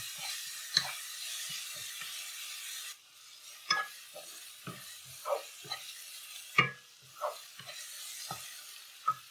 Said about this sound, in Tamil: இப்போ நச்சு வச்சிருக்க இஞ்சி பூண்டை ஆட் பண்ணிக்கிறேன். இது ஒரு 2 நிமிஷம் சிம்ல நல்லா வதங்கட்டும்